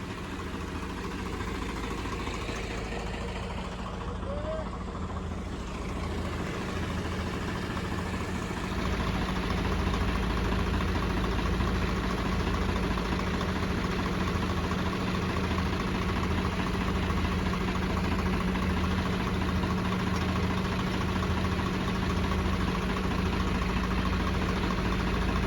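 John Deere 5210, Swaraj 855 and Sonalika tractors at a tractor pulling contest, a steady low diesel idle rumble with constant vibration, continuous and moderately distant, a higher tone joining partway through.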